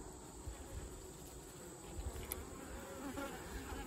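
Honey bees swarm around an open hive during an inspection, their dense buzzing and humming filling the air steadily and close by, with small bumps and knocks now and then and no talking.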